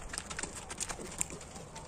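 Faint, quick clip-clop of a horse's hooves on firm ground, a few soft, evenly spaced knocks in a quiet outdoor setting in Kyrgyzstan.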